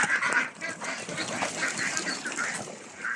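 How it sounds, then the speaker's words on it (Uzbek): Ducks quack in a farmyard among mixed fowl, a busy overlapping chorus of nasal calls at moderate distance over rough outdoor background noise. "Ashularni ham o'rdaklar."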